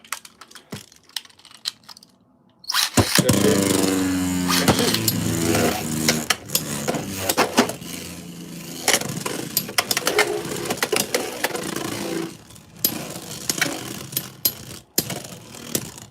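Beyblades Hell's Hammer and Ragna Rage spinning and clashing in a stadium: a sudden launch, then a continuous whirring, rattling grind with repeated sharp clicks of collisions, fading into scattered taps near the end.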